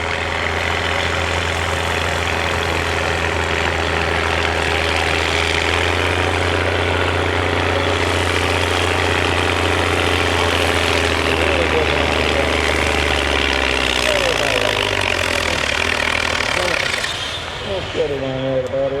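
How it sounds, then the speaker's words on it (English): A Case 1570 tractor engine idles steadily at a steam and gas engine show, a deep continuous rumble with a low drone, crowd noise and talk around it, tapering near the end. "Good running tractor."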